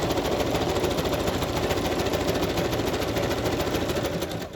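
A sewing machine runs steadily and close, stitching sari silk fabric for a boho journal cover, with a rapid, even mechanical chatter that holds without pause.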